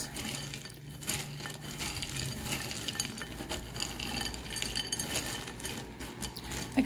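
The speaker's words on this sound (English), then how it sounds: "give it a mix" A utensil stirs a pumpkin and cashew mixture in a bowl, giving steady scraping and soft clinking strokes close by, with no talk.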